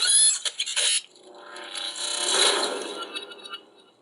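A Marvel Legends Power Gauntlet toy plays a secret sound effect when its fingers are set in a horns gesture: a bright metallic clatter at first, then a swelling, sustained electronic shimmer that gradually fades, close up with no talking.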